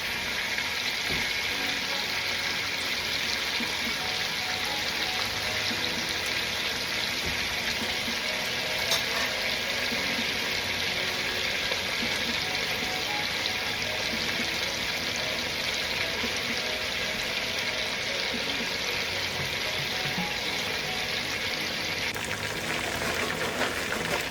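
Chicken pieces for Jamaican fricassee chicken sizzle in hot oil, a steady, dense, close crackling hiss that runs unbroken from start to finish with no voices.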